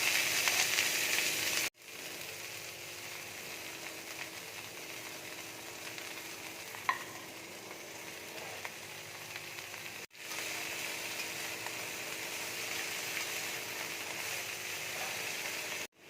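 Cabbage frying in hot oil with black cumin seeds, a steady broadband sizzle running throughout, broken by two brief gaps and a single sharp clink near the middle; no one speaks.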